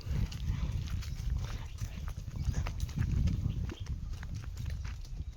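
A horse walks on a farm, its hooves clip-clopping in a steady, close, uneven rhythm over a low rumbling background, with no talk.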